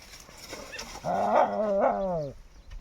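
A dog whines in a drawn-out, rising and falling whimper, fairly close, after a few faint low sounds.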